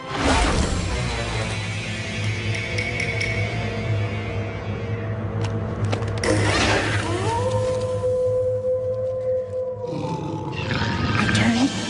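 Cartoon timber wolves give loud, sustained roars and growls, layered over a dense soundtrack of music and sound effects, with a long, steady howl-like tone late in the scene and no speech.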